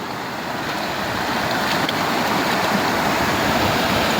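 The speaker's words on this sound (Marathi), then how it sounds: "ते पाणी जाते सगळं इकडं" Floodwater rushing across a rain-damaged farm field where groundnut had been sown, a steady, loud, broadband wash of flowing water that holds constant throughout with no voices.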